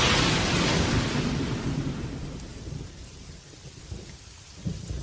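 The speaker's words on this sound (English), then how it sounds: "Thunder shook its bark. Rain weakened its roots." A thunderstorm with a loud rolling thunderclap that slowly fades over steady heavy rain pattering on surfaces.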